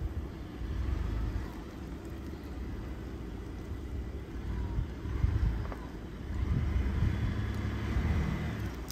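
A truck engine drones steadily while yanking a stuck car out with a trailer still hitched, a low continuous rumble with slight surges, no voices over it.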